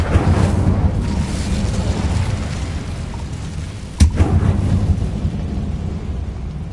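The Incendio fire spell is cast in the video game Hogwarts Legacy, producing a dense, rumbling roar with a sharp crack and whoosh partway through. It stays loud and sustained, with no speech.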